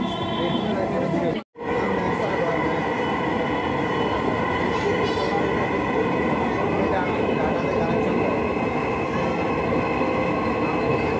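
Steady, loud rumble of a Dhaka Metro Rail train heard from inside the carriage, with a continuous mechanical hum and faint voices murmuring underneath.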